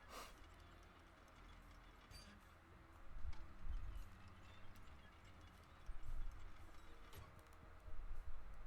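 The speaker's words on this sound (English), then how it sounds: "I can hear footsteps." Footsteps sound in Deathloop, quiet low thumps that grow into clusters of nearby steps over a faint, steady game ambience, with no talking.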